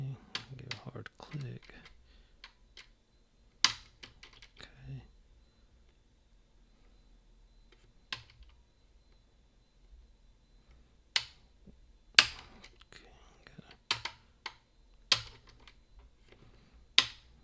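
Levers of a Boda 429 8-lever lock clicking during picking, sharp scattered ticks and clicks, some in quick clusters and others isolated, close up in a quiet room with faint handling noise between.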